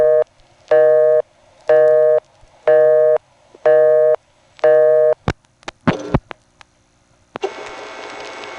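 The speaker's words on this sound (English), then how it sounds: "that last dial tone came on in kind of a funny way, an extra click" Six evenly spaced tone pulses ring out, followed by a burst of sharp clicks and a clatter, then a steady telephone dial tone starts with an extra click, on a 1976 Quarryville, Pennsylvania electronic switching exchange.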